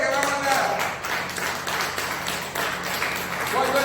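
A church congregation claps steadily and densely throughout, a loud, sustained roomful of applause with voices mixed in.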